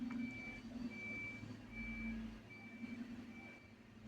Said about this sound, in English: there's like this huge vehicle beeping and backing up outside